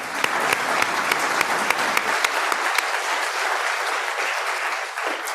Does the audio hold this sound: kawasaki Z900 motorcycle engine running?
no